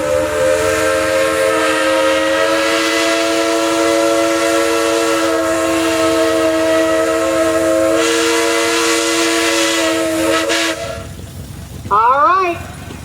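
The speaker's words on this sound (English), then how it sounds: "I'm familiar with this steam engine, so it does have a few whistles, so hold your ears because it's loud." A steam engine's whistle blows loud and steady in a long sustained blast at an antique tractor parade, then cuts off and is followed by a brief rising squeal near the end.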